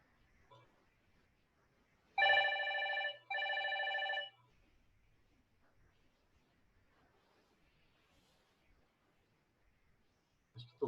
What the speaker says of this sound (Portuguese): Acho que tocou o telefone aqui